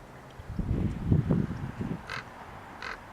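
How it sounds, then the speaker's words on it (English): Crows call at a beach: two short, raspy caws ring out fairly faintly after a stretch of low, muffled rumbling. "Birds!"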